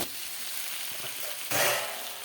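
Vegetables sauté in hot oil with a steady, close hiss and crackle, then a louder surge of sizzling near the end as the pan is stirred.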